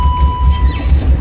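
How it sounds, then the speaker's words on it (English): A BMW E30 idles low with a rough, lumpy rumble and a repeated knocking from the transmission, close and loud, with a faint steady whine above it. "I do have something kind of knocking in the transmission."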